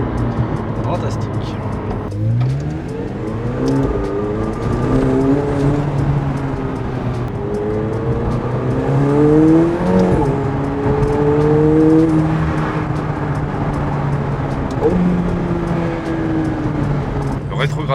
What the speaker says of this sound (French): Le rétrogradage est très agressif.